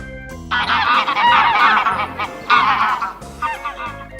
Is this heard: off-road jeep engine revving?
no